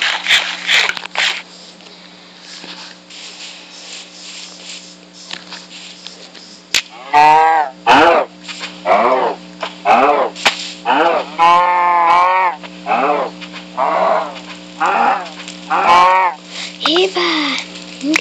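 Cattle mooing in a survival video game, several drawn-out moos repeating in the second half over a steady hum of game ambience, with people talking in between.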